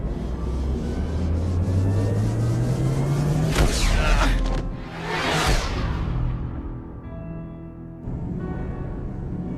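Spaceship airlock doors in the Mass Effect 2 video game slide open and vent, with a rising mechanical hum building into loud hissing whooshes of purging air, then a quieter steady machine drone.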